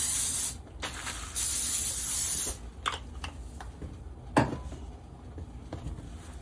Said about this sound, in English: with some oil spray.